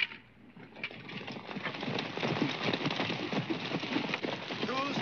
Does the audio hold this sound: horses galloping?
yes